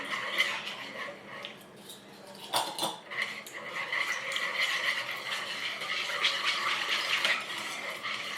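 A whisk beats plain yogurt into whole milk in a bowl, giving a steady run of quick metallic clinks and scrapes with one louder clatter partway through, heard up close.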